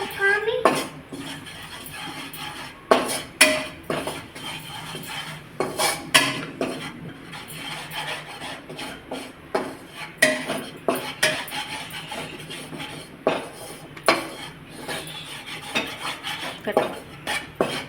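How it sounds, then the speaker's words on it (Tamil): Wheat flour being stirred in a hot, dry pan with a utensil, producing repeated scraping and clinking strokes against the metal at an uneven rhythm, close and fairly clear. "பேன் ஹீட் ஆனதுக்கப்புறம் அதை இப்படி கலரிக்கிட்டே இருக்கணும்"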